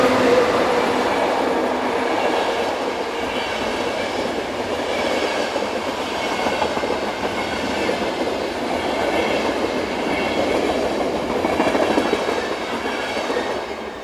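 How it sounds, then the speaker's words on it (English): Eurocity train 102 from Villach to Warszawa rolls past on the Semmering line in Austria, a steady loud rumble with clattering wheels and a faint squeal running unbroken throughout. "This is Eurocity train number 102 from Villach to Warszawa in Poland."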